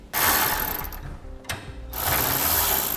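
Lock nut being run down with a ratchet on a B and W gooseneck trailer hitch handle in a 2013 Chevrolet Silverado, steady close ratcheting clicks in two bursts with a brief pause between.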